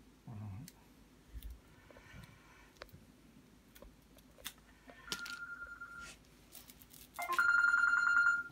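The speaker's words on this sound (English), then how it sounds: "I just had a phone call I had to answer." A telephone rings near the end with a loud, repeating electronic trill, preceded by a shorter tonal burst and scattered faint clicks and taps in a quiet room.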